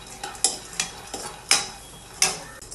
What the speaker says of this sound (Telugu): ఇలా మధ్య మధ్యలో మిక్స్ చేసుకుంటూ ఫ్రై చేసుకోవాలి.